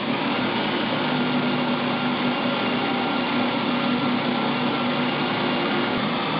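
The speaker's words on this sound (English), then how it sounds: "starts with drilling out spot welds" A power drill whines steadily and continuously at close range, drilling out spot welds on the sheet metal of a 1976 Mazda RX-5 Cosmo without pause.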